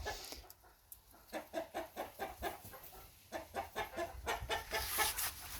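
Free-ranging hens graze and cluck close by in a steady, rhythmic series of short calls, with faint background sounds around them.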